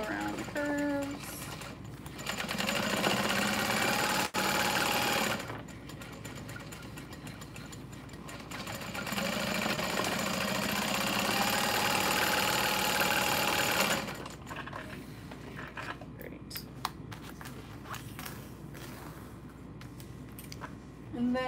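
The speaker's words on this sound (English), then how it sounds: "Just sew around the curves." Sewing machine stitching seams on a vinyl bag, running in two longer stretches of several seconds each with quieter gaps between, moderately close, and a person talks over parts of it.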